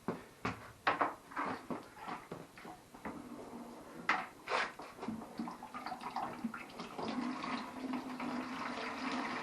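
Water is dumped out of a tank or container fitted with a check valve, with irregular splashes, knocks and clunks turning into a steady gurgling pour, with no talk.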